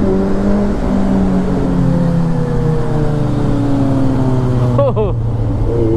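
Triumph superbikes ride through a narrow lane at a showroom opening, their engines droning loud and close with rising and falling revs that echo, ending in a brief sharp burst.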